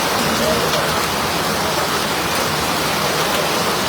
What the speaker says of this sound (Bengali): আশা করছি বৃষ্টিটা আর 1/2 ঘন্টার মধ্যে থেমে যায়